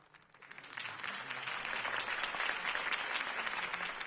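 A crowd at a mayoral campaign rally for Harvey Dent bursts into sustained applause and cheering, swelling within the first half-second and holding loud and dense throughout.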